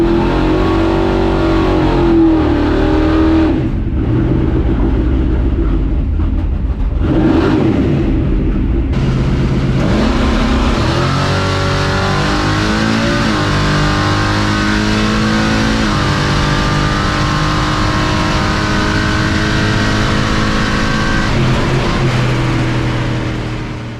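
A 700-horsepower Chevrolet C10 pickup makes a drag racing pass, its engine revving hard through rising gear sweeps and staying loud and close before easing off at the end.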